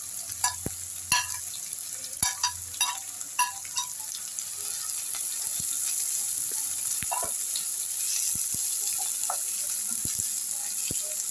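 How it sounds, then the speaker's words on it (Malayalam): Onion, shallots and coconut sizzle in a pan for Kerala-style beef curry, with sharp stirring clatters early on, then a steady frying hiss, fairly close and moderately loud. "നമ്മൾ ബീഫിന് വറവ് ഇടുവാണേ"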